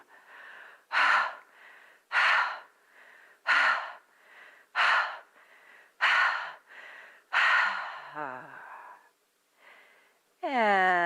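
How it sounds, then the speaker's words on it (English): Heavy exhalations during a movement and meditation session, about six forceful breaths out at a steady rhythm, close and loud, each followed by a softer breath in, with a voice rising at the end. "let out some breaths very heavily, let's say about 6 times"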